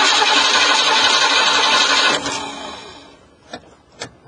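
A van engine cranks and catches after a carburetor repair, a loud steady roar for about two seconds that cuts off and fades, followed by a couple of short sharp knocks.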